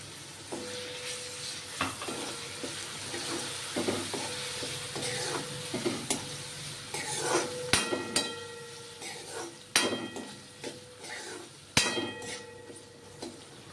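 Ivy gourd and potato cook in a pan with a splash of water, giving a steady sizzle broken by sharp metallic clinks and scrapes of a spoon against the pan at irregular intervals.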